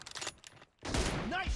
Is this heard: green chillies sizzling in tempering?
no